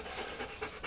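A small rescued puppy pants rapidly and steadily up close, a soft breathy rhythm of quick in-and-out huffs with no talking.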